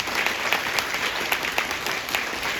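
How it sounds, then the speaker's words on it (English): A Comic Con panel audience claps steadily and densely throughout, a continuous wash of indoor applause with no voices standing out. "please give a round of applause to our wonderful Comic Con staff"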